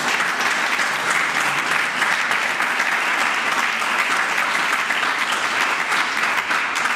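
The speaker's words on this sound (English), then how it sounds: "let's give them a round of applause." Steady, dense applause from a large audience fills the room at an interfaith emergency preparedness gathering, an even wash of clapping with no pauses from start to finish.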